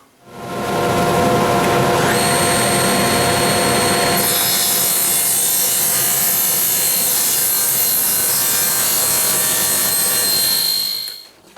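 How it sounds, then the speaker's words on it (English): Table saw fitted with a fine crosscut blade trimming the end of a wood piece on a miter fence, a loud continuous whine that rises in pitch partway through, then cuts off abruptly. "I'm going to put in a fine crosscut blade, and we're going to get out our miter fence and trim up the end"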